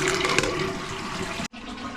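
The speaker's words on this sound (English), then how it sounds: "it's continuously filling in the bowl, this one" A toilet's Fluidmaster flush valve lets cistern water run continuously into the bowl, a steady close rushing trickle that breaks off briefly near the end before resuming.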